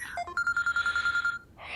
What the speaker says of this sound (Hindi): फिर से कॉल आ रहा है उनका,